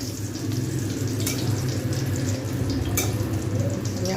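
Eggplant fries in a pan for a yogurt-mustard Bengali dish, a constant bubbling sizzle of oil with a low rumble beneath and a couple of brief sharper scrapes, near and unbroken by talk.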